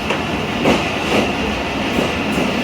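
An old passenger train rolls steadily through Jungshahi station at dusk, a continuous loud rumble with rhythmic clickety-clack of wheels over rail joints, heard alone without talk.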